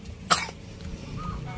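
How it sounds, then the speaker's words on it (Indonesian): A single sharp cough from a person indoors, brief and moderately loud, standing out against a low background hum with no talking. "Batuk dia guys"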